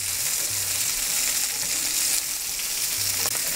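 Large chunks of onion sizzle steadily in a hot pan for paneer chilli, a loud continuous close-up frying hiss with faint stirring and no speech.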